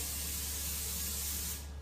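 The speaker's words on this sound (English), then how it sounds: "Okay, so I do like to do a little extra spray at the end." Cooking oil spray misted over pieces of chicken, one continuous close hiss lasting under two seconds that then cuts off abruptly.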